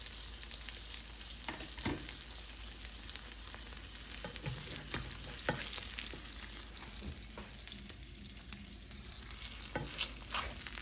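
Steady sizzling of almond-flour breaded chicken frying in a pan, a constant crackle with occasional small pops and scrapes, close and fairly quiet.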